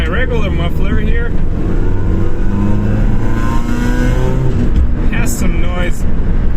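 A Suzuki Wagon R+ engine with stock muffler revs and drones loudly nearby, pitch rising and falling, droning around 3,500 RPM, with someone talking over it.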